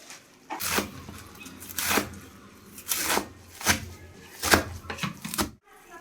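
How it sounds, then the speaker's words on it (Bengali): A knife chops through rai shak leafy greens on a board in distinct bursts of crisp, close cutting strokes, about six rapid clusters separated by short pauses, with no talking. "এবার শাকটা কেটে নিই"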